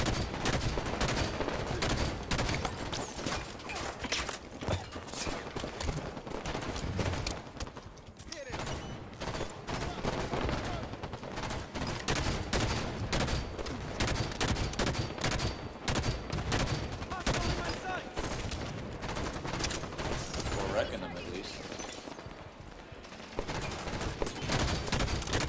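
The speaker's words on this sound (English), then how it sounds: "I'm running out of ammo on my battle rifle, so I gotta fall back for a while." Battle rifle fire in the Halo 5 Warzone video game: continuous, dense bursts of shots rattle on almost without a break for the whole stretch, loud and busy, with little or no talk over them.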